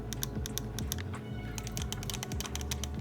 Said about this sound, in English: having these very clicky bumpers is not exactly the best.